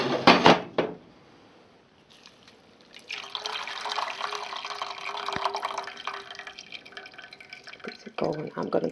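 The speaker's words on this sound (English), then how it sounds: "I'm rinsing out the red dye from the mops and the flowers in the kitchen sink" Hot water running into a kitchen sink while mops and flowers are rinsed of red dye, a steady splashing stream with clatter and dripping at the start and a voice briefly heard.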